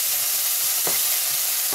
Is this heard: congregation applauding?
no